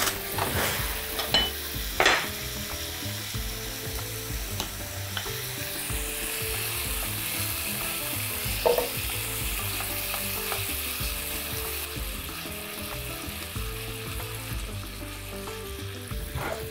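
Chicken drumsticks browning in vegetable oil and butter, a continuous close sizzle with occasional clinks of a utensil against the pan, steady and unbroken with no talking.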